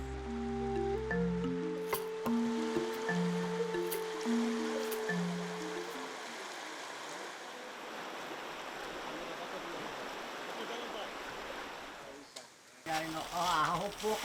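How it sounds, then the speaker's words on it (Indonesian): A fast, strong river current rushes through forest in the interior of East Wasile, a steady broadband hiss of flowing water that continues under a voice at first, then alone. "kami harus melalui arus sungai yang cukup deras"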